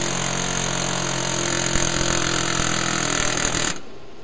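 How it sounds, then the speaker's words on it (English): A loud, continuous pneumatic air hammer rattles steadily for several seconds, its bit inside the bore of a hub, then cuts off abruptly, leaving a lower mechanical hum. "The bit of the air hammer is inside the bore of the hub."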